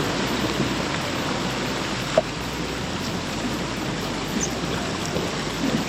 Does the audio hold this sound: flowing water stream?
yes